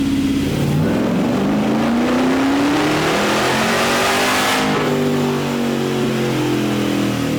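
A supercharged Chevy LS3 V8 in a C10 stepside truck revs hard through a dyno pull, its loud engine note climbing steadily in pitch for several seconds, then holding near the top before easing slightly, with no talking.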